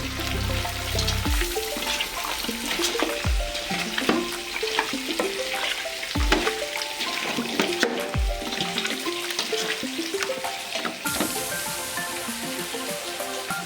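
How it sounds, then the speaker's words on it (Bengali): Pieces of fish sizzle and crackle steadily in hot oil in a home kitchen, a continuous close frying hiss with occasional sharper pops and scraping, no talk. "আর এদিকে আমার মাছ ভাজাগুলো হতে থাকে"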